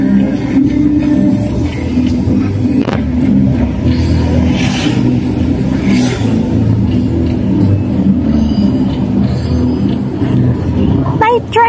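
Car cruising at night on the way to Quezon Hill, a steady low engine and road rumble filling the cabin throughout, with people chatting inside over it.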